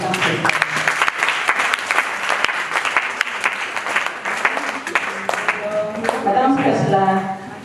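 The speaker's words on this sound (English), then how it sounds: "can you please give a hand of applause to our speaker?" A seminar audience at an International Day of the Midwife event applauds the speaker with a full, lively round of clapping throughout, and voices come through over it near the end.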